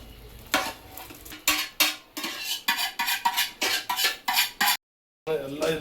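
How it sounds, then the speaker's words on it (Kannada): A spoon scrapes and stirs hot tempering into churumuri puffed rice in a metal bowl, a close, loud series of rhythmic dry rustling strokes, about a dozen, with a brief silent gap near the end. "ಈ ಚುರುಮುರಿಯಲ್ಲಿ ಇದು ಒಗ್ಗರಣೆ ಮಿಕ್ಸ್ ಮಾಡ್ತಾ ಇದ್ದೀನಿ ನೋಡಿ."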